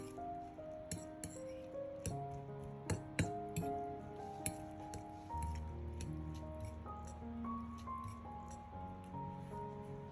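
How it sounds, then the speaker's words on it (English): Egg mixture and shredded cheese are stirred in a bowl with a utensil, giving soft wet squishing along with light clinks and taps against the bowl, quiet and close, over faint background music. "Gently mix until well combined."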